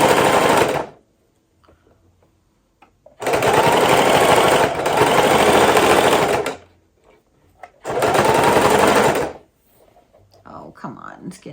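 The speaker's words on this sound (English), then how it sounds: "the piece underneath really made it sew better" A sewing machine stitches a leather pouch in three loud, close bursts of rapid mechanical rattling, separated by quiet pauses, with faint handling noise at the end.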